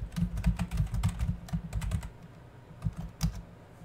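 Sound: typing a password on a computer keyboard

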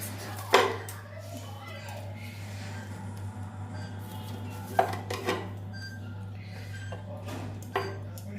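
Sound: knife cutting the crusts off bread slices

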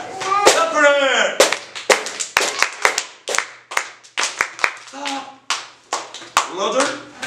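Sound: children clapping in English class

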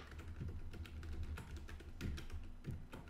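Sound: typing a password on a computer keyboard

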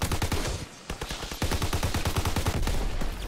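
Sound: gunfire in Call of Duty WW2 video game

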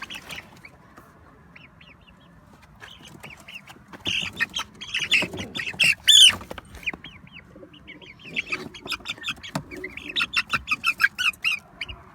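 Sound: ornamental birds in a coop

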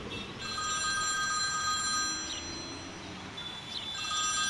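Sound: telephone ringing in next room, audiobook sound effect

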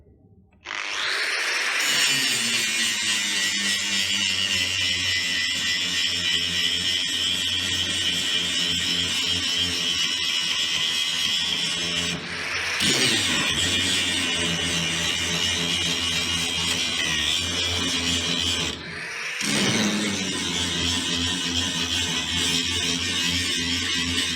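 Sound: grinding a weld bevel into metal

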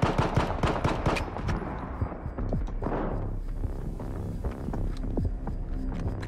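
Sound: gunfire in STALKER 2 video game

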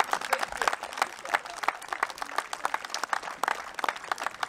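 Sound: applause from an audience

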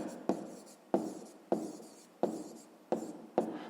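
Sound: writing with pen on paper

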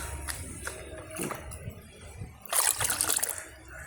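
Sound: water poured into fertilizer mix

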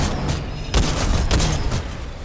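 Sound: gunfire in video game Titanfall 2

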